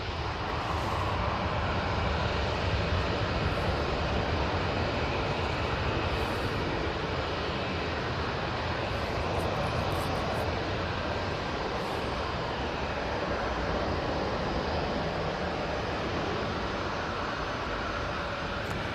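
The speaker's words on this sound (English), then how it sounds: "Ryanair on the roll. 737 MAX 8." A Ryanair Boeing 737 MAX 8 on its takeoff roll at Manchester Airport gives a continuous, even jet roar at moderate distance, sustained throughout without voices.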